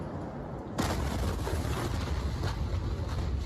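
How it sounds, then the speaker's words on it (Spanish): A blast from an industrial fire at an industrial park hits after a vapor cloud clears, a sudden loud broadband roar that sustains as a dense rumbling wash for several seconds. "cuando se va el hongo de vapor, se va a ver la explosión en la parte de atrás"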